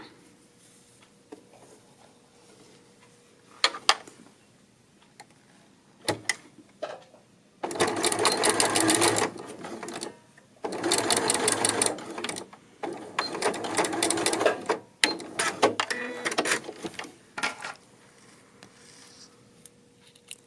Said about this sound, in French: je vais venir faire ma couture au point droit